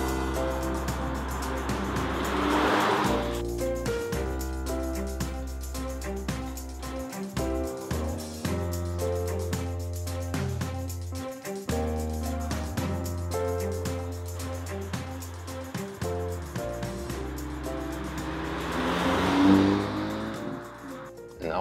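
An Audi S3 sedan drives along at a steady, continuous engine drone that lightens briefly between shifts, heard alone without talk, with a bit of road and wind noise on top.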